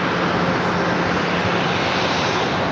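A large jet aircraft at LAX airport roars steadily and loudly, a broad continuous engine rumble with no talk over it.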